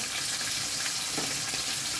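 A steady, close sizzle of leftover rice frying in a hot pan, continuous for the whole stretch with faint stirring scrapes and no voices.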